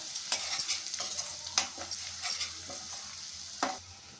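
A utensil scrapes and stirs fried onions with turmeric in a pan, a string of distinct close strokes over a faint sizzle, quiet overall and without talk.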